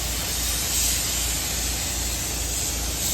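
A DeVilbiss Millennium spray gun fitted with a 1.4 tip lays down heavy paint on a 1965 Chevrolet C30 dually truck, giving a steady, loud, close hiss that runs unbroken and without any talk.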